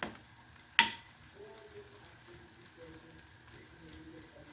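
A chapati cooks in a pan with a soft, low sizzle and faint bubbling that continues throughout, broken early by a single sharp tap.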